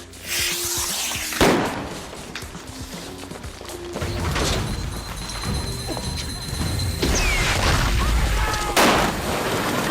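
A sharp, loud blast from a film-set explosion bursts out amid steady outdoor noise, followed moments later by a second booming burst, with scattered crackles between.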